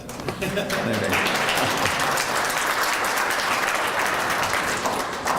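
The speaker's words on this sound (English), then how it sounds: "You're going to clap for that." Audience applause at a Western Canada Summer Games partnership announcement with Noralta Lodge, a steady wash of many hands clapping that swells after a brief spoken line and holds evenly to the end.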